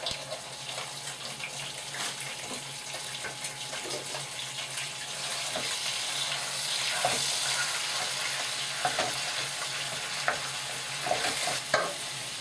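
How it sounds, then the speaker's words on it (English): Ground beef browning in a pan for a bolognese sauce, giving a steady, moderate sizzle with stirring scrapes and a few louder clinks toward the end, with a faint trickle of water in the background and no talking. "Now I'm going to add my ground beef."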